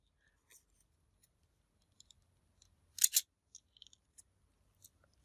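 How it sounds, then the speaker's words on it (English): Pinking shears snip through a paper gift tag in one short, crisp cutting burst near the middle, surrounded by quiet small clicks and handling taps in an otherwise hushed room. "I'm going to cut that in half, and actually I'm going to come in with my pinking so to make it look like a tag"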